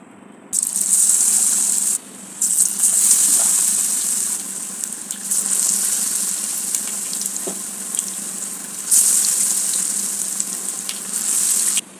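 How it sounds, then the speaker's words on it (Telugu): Gram flour bajjis of round potato slices and long raw banana pieces deep-frying in hot oil, a steady loud sizzle that surges as fresh pieces drop in, with light rattling and stirring, no talk. "ఇప్పుడైతే బజ్జీలు వేసేస్తున్నాం"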